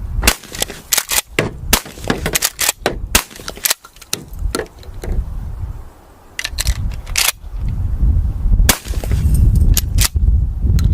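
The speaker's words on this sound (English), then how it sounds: "We have 2 small pieces of cinder block with the license plate, so let's let her rip" Shotgun fired at small cinder block pieces with a license plate outdoors, a rapid series of sharp loud blasts in the first half, then scattered shots among rustling background noise.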